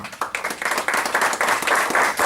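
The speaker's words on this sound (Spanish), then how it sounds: "Démosle un fuerte aplauso al Señor." A church congregation gives a short burst of applause, many hands clapping together and swelling louder, close and lively.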